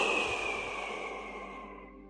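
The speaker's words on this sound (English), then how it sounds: "We want to push the air out of our bodies and make a slight whooshing sound" A single breathy whooshing exhale through the mouth, close and soft, fading out over about two seconds.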